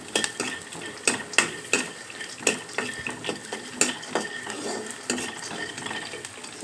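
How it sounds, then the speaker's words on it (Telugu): Peanuts dry-roasting in a pan without oil for gongura chutney, a utensil scraping and stirring in repeated close, sharp strokes over a faint sizzle. "చూసారా, పిక్కలు కూడా వేగాయి కదా బాగా"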